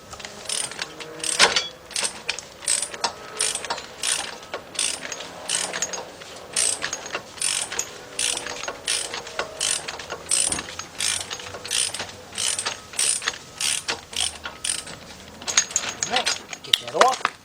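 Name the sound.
wrench loosening a nut on a 2005 Chevy Trailblazer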